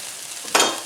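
Onion, green pepper and garlic hit a hot pan, with a quiet hiss that swells into a sudden loud sizzle about halfway through, close up and without talk.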